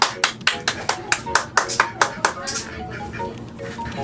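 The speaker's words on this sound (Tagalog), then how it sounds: "Bigyan natin ng palakpak" Classroom clapping from a group of students, a burst of about a dozen sharp, rhythmic claps that fade out, with children's voices murmuring underneath.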